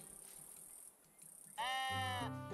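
A sheep in the video game Tiny Glade gives one clear, wavering bleat up close against a soft, steady ambient game backdrop.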